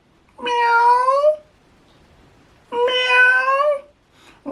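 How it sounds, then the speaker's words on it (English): A domestic cat meows twice, each a clear, drawn-out harmonic cry of about a second, separated by a quiet pause, with the start of a third call at the end. "Alright, I need to see cat now."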